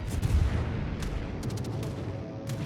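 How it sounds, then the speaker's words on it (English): A heavy naval gun broadside from the cruiser Prinz Eugen in World of Warships fires as a dense low rumbling boom, with sharper cracks and bursts layered over a sustained roar. "now a broadside shot on the Amalfi"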